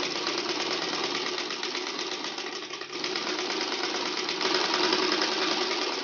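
A sewing machine runs steadily while stitching a pocket on a panjabi, giving a rapid, even mechanical chatter close up, with a brief dip before it carries on.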